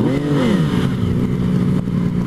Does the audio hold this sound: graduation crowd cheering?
no